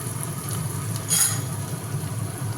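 Onions frying in a pan until lightly reddened, a steady soft sizzle with a brief brighter burst midway, close by and without talk.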